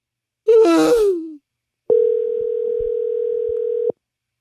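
A steady telephone dial tone hums for about two seconds, clear and continuous, just after a short gasp-like vocal sound.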